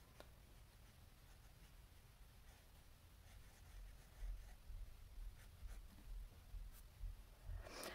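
Kaweco fountain pen with a smooth nib scratches softly across smooth paper, its ink flow drying out, in a close, quiet stretch of continuous strokes with small taps and faint rustles, no talking.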